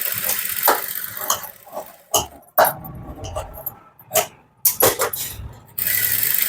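Sewing machine stitching a blouse, irregular bursts of mechanical whirring and clicking that start and stop repeatedly, close by, with brief pauses between runs and no clear talk.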